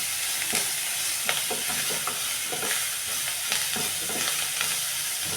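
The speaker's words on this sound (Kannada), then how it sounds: "ಎಲ್ಲ ಚೆನ್ನಾಗಿದ್ದು ಫ್ರೈ ಆಗಬೇಕು." Spices with turmeric powder frying in a pan for jowar masala mudde, a loud continuous sizzle with frequent rhythmic stirring scrapes of a spoon throughout.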